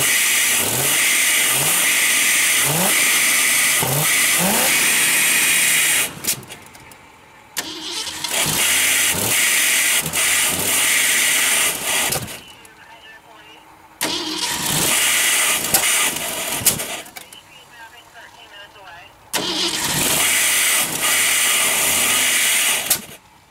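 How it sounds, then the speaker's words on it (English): A 1964 Mustang 289 V8 fitted with a new Chinese carburetor runs and pops, with loud revving bursts broken by several sudden drops toward idle and short quiet gaps, close by. "Where's it popping at, John? Right in here"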